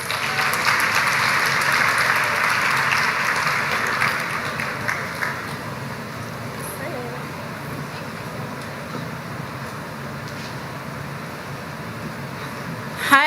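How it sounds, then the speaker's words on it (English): Applause from an audience at a university new-student orientation welcoming presenter Kimberly Henry: dense, loud clapping for about four seconds, then tapering into scattered claps and room murmur. "Give her a round of applause, please"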